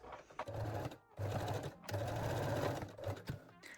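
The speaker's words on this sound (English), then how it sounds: "Then lock or backstitch all seams with a straight stitch." A sewing machine runs straight-stitch seams on a sporty bra in bursts of steady mechanical whirring, stopping briefly between runs, close and clear with no talking.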